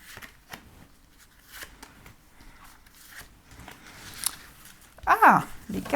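Tarot cards shuffled by hand, soft papery riffles and rustles building to a sharp burst as cards fly out near the end, with quiet talk around it.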